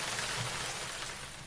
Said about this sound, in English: Mother Nature blew the rain so hard down this busy city road you could hardly see where you was going.